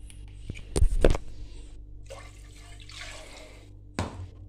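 Water is poured over rice and dal for khichdi in two or three sharp splashing bursts, close and fairly loud, with a softer trickle and gush between them.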